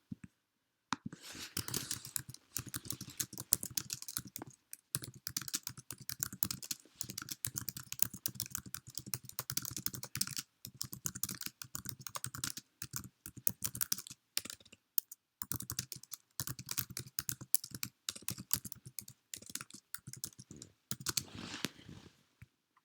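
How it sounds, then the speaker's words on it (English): Typing on a computer keyboard, with rapid irregular key clicks in close bursts separated by short pauses, steady and fairly quiet throughout. "I'm going to type what I infer after reading paragraph 5"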